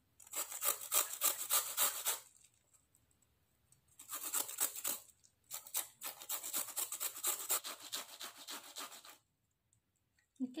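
Bitter melon is ground by hand into a paste, giving rhythmic rough scraping strokes close up in several long bursts separated by short pauses, with no voices.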